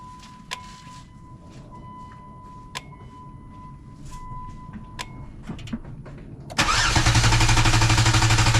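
A 3.8 liter V6 engine cranked by a NovSight G5 jump starter: a few faint clicks, then a sudden loud sustained cranking that churns on steadily to the end.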